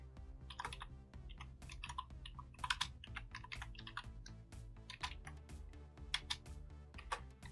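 Computer keyboard typing in quiet, irregular bursts of soft key clicks at close range, with a low hum underneath and no speech.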